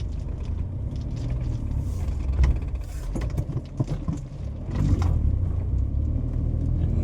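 A vehicle engine labours under heavy load while climbing a steep hill, producing a steady low rumble that stays loud and continuous, with brief surges and no voices.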